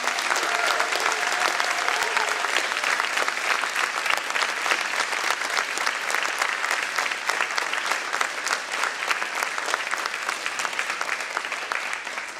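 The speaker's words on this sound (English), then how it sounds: "please let's give our fourth graders one big more round of applause." A school audience applauds fourth graders after their dance residency performance, steady dense clapping filling the hall throughout without letup.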